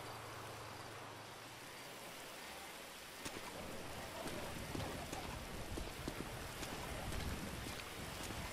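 Rain falls in the video game GTA V at dusk. It is a steady, dense patter, with some gusts of wind and a few sharper drops growing louder midway, and no one talks.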